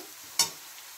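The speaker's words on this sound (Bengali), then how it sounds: "আমার সবজিগুলো ভাজা হয়ে গেছে।" Vegetables, carrot among them, sizzle in a pan for veg chowmein with one short, faint burst of frying as they are stirred, otherwise quiet.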